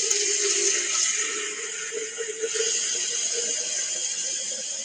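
Liquid pours steadily into a quart measuring container, a continuous gurgling, splashing stream heard close and alone for several seconds.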